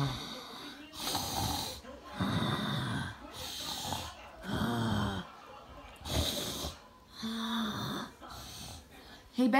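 A voice imitates loud snoring, with about five drawn-out, rasping breaths in a steady rhythm. Each breath is close and strong, and the gaps between them are short and quiet.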